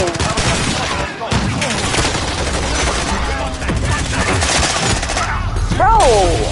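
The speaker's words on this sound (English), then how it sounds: "I'm getting shot from every angle" Rapid bursts of gunfire ring out in a first-person shooter game, dense and loud, with overlapping shots and sweeping effects across the whole span, and a voice briefly heard among them.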